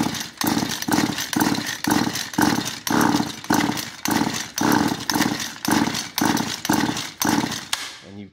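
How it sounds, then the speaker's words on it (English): A flooded Husqvarna 435 chainsaw with its carburetor removed is cranked on the pull starter, giving about fourteen rapid, loud, rhythmic whirring pulls in a steady cadence without the engine catching. "with the carburetor off, you just want to crank on it a few times"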